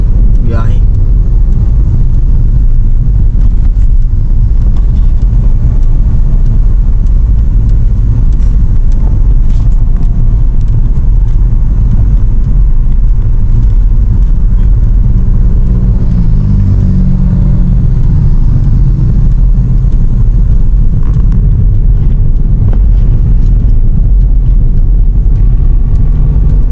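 Inside a moving car, the engine hums and the tyres rumble on the road in a loud, continuous low drone with occasional surges, while people talk over it now and then.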